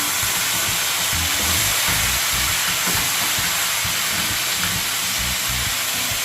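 Pork for Jamaican brown stew hits a hot pot and sizzles, a loud, steady hiss with small crackles running the whole time.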